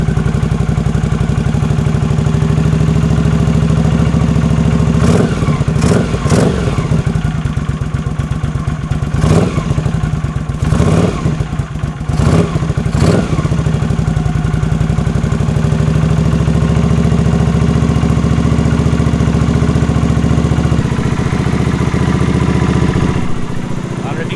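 A Honda CX500 motorcycle engine on full choke idles low and steady at close range, with several sharp clattering knocks through the middle and voices talking over it.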